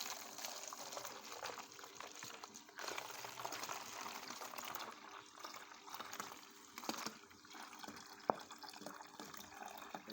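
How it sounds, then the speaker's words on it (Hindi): Water pours steadily into a cooking pot in a home kitchen, a continuous close splashing, gushing flow that runs for about ten seconds with no talking. "अब हमने इसमें पानी डाल देना,"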